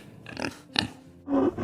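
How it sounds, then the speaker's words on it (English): A pig lets out a few short, close grunts, with two quick snorts followed by a longer, deeper grunt. "Pigs are also known as hogs or swine."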